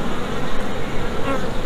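Honey bees buzzing around an open hive on a farm, a dense continuous hum filling the whole moment, close and fairly loud.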